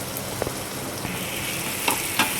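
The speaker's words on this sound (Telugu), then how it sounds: "ఇవి బ్రౌన్ కావాలండి ఆనియన్స్." Chopped onions frying in a pan for a carrot fry give a steady close sizzle, broken by a few faint clicks and scrapes.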